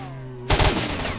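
A sudden burst of enemy gunfire in the video game S.T.A.L.K.E.R.: Shadow of Chernobyl. Rapid shots crack loud and close after a quiet hum, then fade into a short echo.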